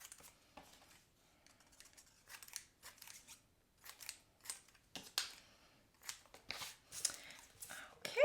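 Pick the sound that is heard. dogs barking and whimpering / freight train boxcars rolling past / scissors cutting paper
scissors cutting paper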